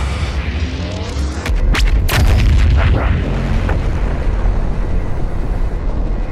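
A big gun in the video game DOOM Eternal fires heavy blasts into the surface of Mars, loud and close, with several booming shots in a row and rumbling debris and echoes trailing off after them.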